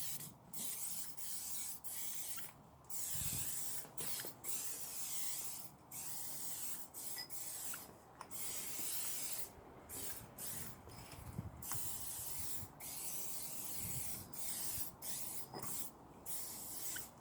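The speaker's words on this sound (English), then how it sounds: "You can use this spray over it. Multi-purpose spray." Several short hissing bursts from an aerosol multi-purpose spray can, fairly quiet and close, separated by brief pauses, during a Fiat 500 diesel clutch replacement.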